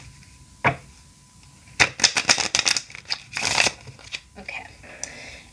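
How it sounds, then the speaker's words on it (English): A deck of Rider-Waite-Smith tarot cards on excellent cardstock is shuffled quickly in a burst of crisp riffling flicks and rustles, close up, with a brief spoken word heard earlier. "I'll just give it a quick shuffle."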